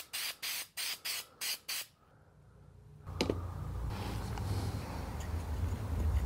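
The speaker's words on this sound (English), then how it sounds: "I'm gonna use 3M Super 77 spray adhesive." A series of six short spray bursts from a can of 3M Super 77 spray adhesive in quick succession, followed by a longer rising hiss with some handling noise.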